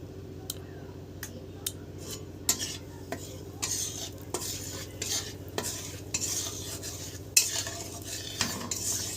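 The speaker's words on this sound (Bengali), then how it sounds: "হলুদটাকে একটু নেড়ে নেব।" A spatula scrapes and knocks repeatedly against a wok while turmeric powder is stirred into hot oil left over from frying hilsa fish, irregular close metallic taps over a low sizzle.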